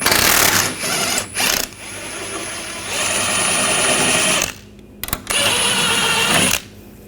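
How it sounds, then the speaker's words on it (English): Ratchet with an 18mm socket working on a rear shock absorber bolt of a 2014-2020 Nissan Rogue, giving rapid, continuous clicking in several bursts separated by short pauses, close and loud. "Using a 18mm wrench, 18mm socket, take this nut and bolt out."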